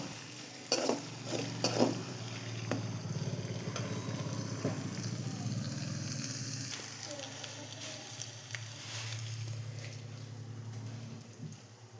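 Spice mix for a dried fish curry sizzles steadily in hot oil while being stirred, with a few louder scraping clinks near the start over a continuous frying hiss.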